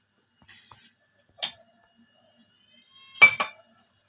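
A metal slotted ladle being handled while oiled in a kitchen before making murukku, giving two or three light, sharp clinks separated by silence, close and clear.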